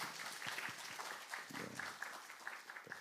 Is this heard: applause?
yes